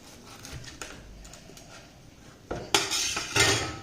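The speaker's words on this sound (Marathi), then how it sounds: "तर याला बरोबर मधून सँडविच शेप द्यायचा आहे कट करून।" A knife cutting a toasted sandwich through the middle: quiet scraping at first, then louder metallic clinks and crunchy cuts against a plate in the final second and a half.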